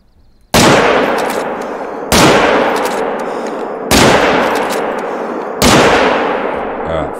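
Four loud rifle shots fired at a moose in theHunter: Call of the Wild, each a sharp crack with a long echoing decay, spaced roughly one and a half to two seconds apart with no talk between them.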